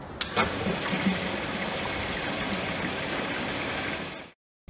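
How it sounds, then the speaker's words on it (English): A centrifugal pump in a laboratory piping network drives water back through a bypass pipe, producing a steady rushing, trickling flow noise with a faint mechanical hum that cuts off abruptly near the end. "turn on the centrifugal pump and let the water circulate back through the bypass"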